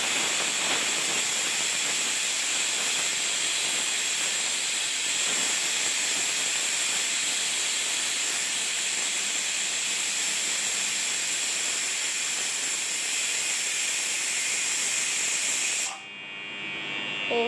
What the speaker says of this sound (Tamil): இதை வந்து நல்லா எண்ணெயில் நல்லா வதக்கணும்